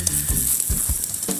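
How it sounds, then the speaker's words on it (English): Vegetables tossed into a pan set over hot charcoal briquettes, giving a bright steady sizzle with a few soft thumps and rustles as the pieces land, close by and without speech. "I'm also going to go ahead and throw the veggies on into the briquettes"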